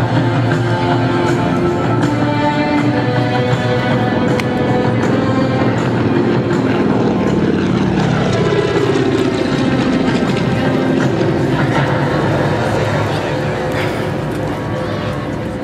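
A Mitsubishi A6M Zero flies a barrel roll, its loud, steady engine roar droning without pause and shifting in pitch as it turns overhead, with a voice talking beneath.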